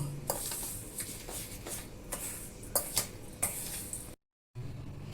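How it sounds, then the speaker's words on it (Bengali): Dry snack ingredients being mixed in a bowl, with soft scraping stirs and a few sharper clinks of a spoon against the bowl, quiet and close, broken by a brief silent gap near the end. "ড্রাই ইনগ্রিডিয়েন্টগুলো ভালো করে মিশিয়ে নেব"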